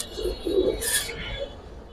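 Silver Giribaz racer pigeons coo in low, soft murmurs, with a brief brighter rustle midway; the calls sit fairly close against faint background noise.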